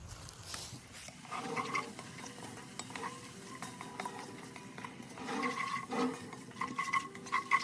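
Lean ground beef and vegetables sautéing in a pot on an Oklahoma Joe Bronco, a soft, fairly faint sizzle with repeated scraping and clinks of a utensil stirring against the pot.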